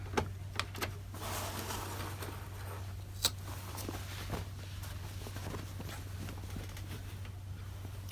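A sewing machine backstitches along a quilt binding with a quiet, steady mechanical whir and a low hum, marked by faint rapid ticking and a few soft clicks, with no talking.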